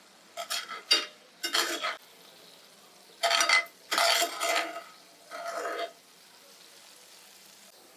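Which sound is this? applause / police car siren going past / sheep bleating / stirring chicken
stirring chicken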